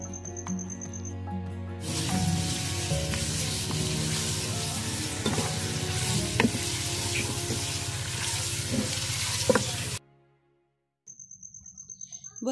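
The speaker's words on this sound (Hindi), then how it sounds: "चिकन की मैं थोड़ी सी भुनाई करूंगी और फिर साथ ही चिकन के साथ ही मैं अदरक और लहसुन का पेस्ट डाल देती हूँ" Chicken sizzles and fries with ginger-garlic paste in a pan for white karahi, a loud steady crackle with stirring scrapes for about eight seconds before it cuts to near silence and a faint return.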